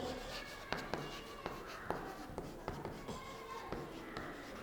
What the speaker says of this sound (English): All of you take a notebook and write the question.